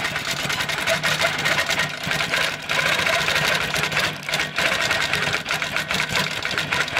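An HQ Amara longarm quilting machine with a 20-inch throat and Pro Stitcher Premium stitches a log cabin mini quilt, giving a steady, close mechanical whirr with rapid needle chatter and a few short pauses.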